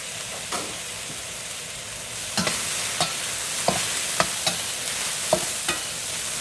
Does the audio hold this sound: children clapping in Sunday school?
no